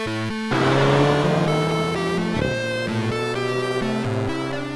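A Volkswagen Golf GTI fitted with the performance package accelerates hard, its engine note rising through a few gear changes, loud and close with no voices.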